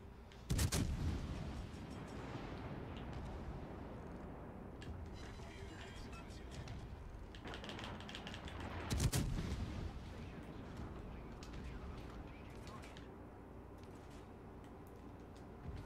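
Naval gunfire in the video game World of Warships Legends, two heavy booming shots several seconds apart over a constant low rumble of game ambience.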